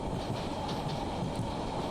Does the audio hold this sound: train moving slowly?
yes